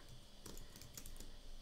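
Brief, quiet burst of typing on a computer keyboard while entering Python code, a few soft clustered keystrokes close by over faint room noise.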